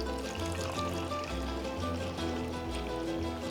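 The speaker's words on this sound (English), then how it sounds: "Gonna add our liquids" Liquids poured into a well of flour in a bowl for homemade tortillas make a quiet, steady trickling pour that runs without a break and stands alone without speech.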